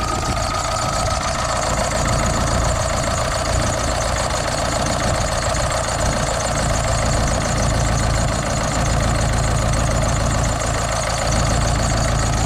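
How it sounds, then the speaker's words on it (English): An engine with Siemens Continental fuel injectors idles steadily during an injector test, a loud, close, even mechanical rumble with a faint ticking knock, running without pause and with no voices. "I'm going to shut down the engine."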